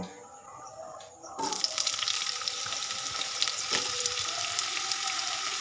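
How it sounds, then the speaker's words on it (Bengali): Potatoes frying in mustard oil in a pan, a quiet lead-in before the sizzle bursts up about a second in and then holds as a steady, loud, crackling hiss with small pops. "আমি হলুদ লবণ কিছুই দিচ্ছি না, শুধু আলুগুলোকে ভেজে তুলে নিব।"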